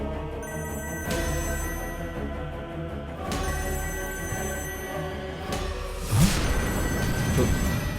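A telephone rings repeatedly in short trilling bursts over a continuous background drone of dramatic music, with a sharp swoosh near the end.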